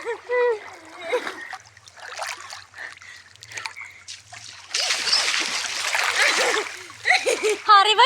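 A person swims underwater in a cold river and breaks the surface with loud, sustained splashing and churning water. Excited voices talk and exclaim before and after.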